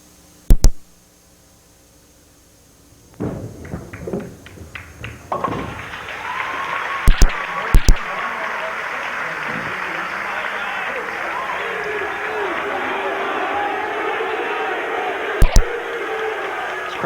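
At a 1996 bowling tournament, a few sharp knocks precede a crowd that breaks into sustained applause and cheering, a broad wash of clapping that holds steady, with a commentator's voice over it.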